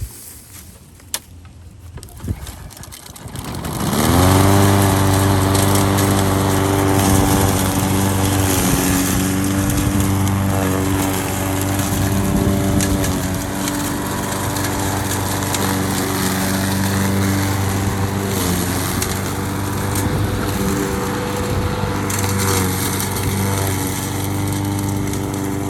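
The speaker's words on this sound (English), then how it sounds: "I'm going to go ahead and start up the mower and give you just a little bit of the action" A lawn mower started up and run close by while cutting back a garden bed during a spring cleanup in Northwest Indiana, its engine settling into a loud, continuous steady drone with no talk over it.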